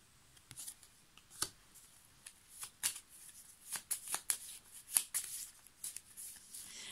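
Oracle cards being shuffled by hand, a series of quiet, crisp riffling and snapping bursts in an irregular rhythm, close and faint, with no talk.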